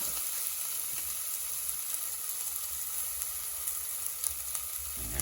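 Ginger garlic paste and onions sizzling steadily in a hot pan on a stove, a continuous close frying hiss with faint stirring, no voices.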